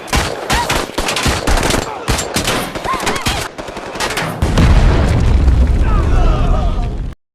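A film shootout between police and a Mexican mafia gang: rapid bursts of gunfire crack in quick succession, loud and close, then give way to a sustained, heavy, booming roar.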